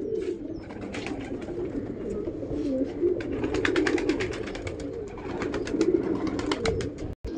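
Pigeons cooing on a rooftop, repeated soft throaty coos near the microphone over a steady outdoor background, with a few scattered chirps and rustles throughout.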